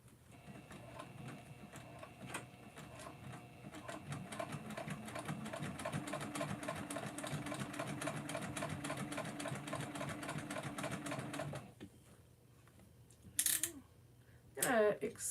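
A sewing machine stitches a bag in a steady, rapid mechanical run for most of the clip, then stops, followed by a couple of brief, sharp handling sounds.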